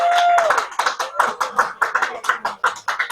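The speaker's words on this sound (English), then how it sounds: "Let's have a round of applause." Clapping at an awards gala, with uneven hand claps in a steady rhythm and a brief tone and murmuring voices near the start, moderately loud in a hall.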